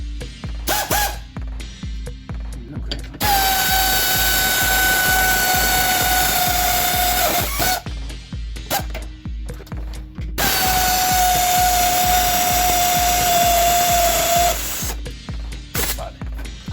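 A power tool tightens brake caliper bolts in two long sustained bursts of loud whirring with a high whine, separated and framed by short clicking, rattling ratchet work.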